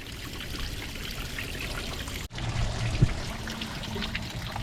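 Water trickles and pours steadily through a boat engine being flushed, a continuous watery rush with a brief dropout midway and a small knock just after, no voices.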